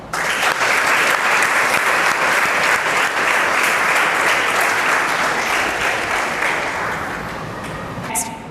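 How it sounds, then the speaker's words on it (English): A class applauds a student during a biology lesson, with dense, continuous clapping from many hands that stays loud and then tapers slightly before stopping abruptly. "please clap for Asha."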